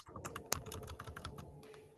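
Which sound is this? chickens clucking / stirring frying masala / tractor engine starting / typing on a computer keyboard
typing on a computer keyboard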